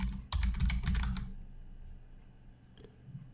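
Quick burst of typing on a computer keyboard, about a dozen close, fast key clicks over roughly a second, then near silence with a faint hum, with no talking.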